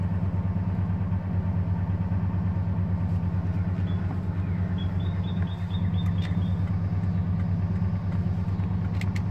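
A 1999 Ford F150 pickup idles just above 1,000 rpm, its engine putting out a steady, close low rumble with an even pulsing rhythm and faint higher ticks over it for the whole stretch.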